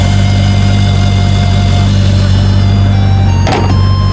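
A Ferrari engine runs steadily at a low idle, a constant deep rumble with a faint thump near the end and no talking over it.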